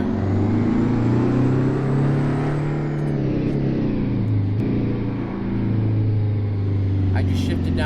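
In American Truck Simulator, a truck engine rumbles and pulls away from a parking lot, the deep drone climbing and dropping through gear shifts, with someone talking over it.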